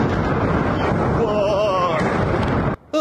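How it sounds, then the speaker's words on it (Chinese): Missile strikes in Kursk: a sustained heavy rumbling roar with a wavering whistle-like tone rising through the middle, ending in an abrupt cut, loud and distant-sounding. "俄国库斯克地区飞弹呼啸声接着爆炸声，没完没了"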